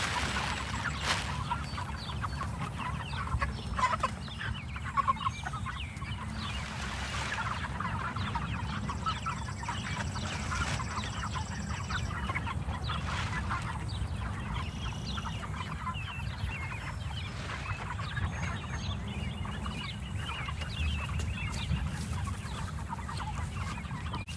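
Meat chickens in a Mega Peterson chicken tractor cluck softly and continuously, a low, close murmur of many birds with scattered sharper clucks.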